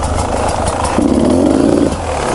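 An enduro/trials motorcycle engine idles, then blips its throttle in a quick rise, holding a raised rev for about a second before dropping back, loud and close.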